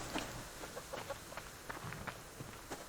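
Soft, intermittent clucks from a chicken in a video game, several short bursts scattered across a few seconds against a quiet background with faint footsteps.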